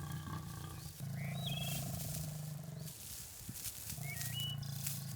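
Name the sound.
lions roaring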